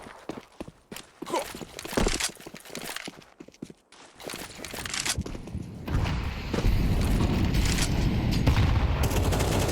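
Rapid gunfire bursts and footsteps during a Counter-Strike esports match on the Canals map, dense and loud, building into sustained noisy chaos toward the end.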